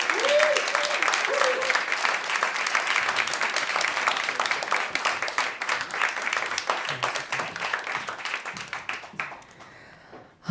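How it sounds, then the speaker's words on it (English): A crowd at a panel discussion event applauds for a long stretch: thick, continuous clapping from many hands that tapers off near the end, with a brief voice heard at the start. "I'm going to one more round of applause"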